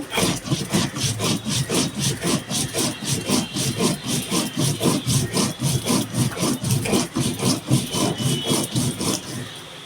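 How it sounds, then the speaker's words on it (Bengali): Mustard seeds and poppy seeds are ground together into a fine paste for a bhetki fish dish, making a steady, rhythmic back-and-forth rasping scrape that repeats about twice per second, close and continuous with no talk. "সর্ষে আর পোস্তটা আমি বেটে নিচ্ছি"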